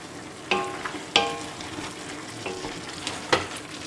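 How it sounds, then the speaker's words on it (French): Ratatouille vegetables sizzle in a pan while being stirred, with a few sharp utensil scrapes and clinks over a steady close frying hiss. "On mélange bien tout ça"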